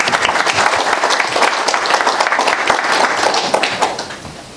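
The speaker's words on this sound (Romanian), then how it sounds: "Aș vrea să-l aplaudați, vă rog. Tare." An audience applauds doctor and hospital manager Adrian Cotăleț at a mayoral investiture session in Slănic Moldova, a dense, loud wash of many hands clapping steadily before tapering off near the end.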